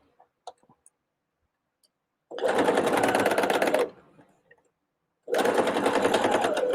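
Sewing machine stitching pieced quilt units together, running in two steady bursts of fast mechanical whirring, each lasting about one to one and a half seconds, with a few light clicks and a short pause between.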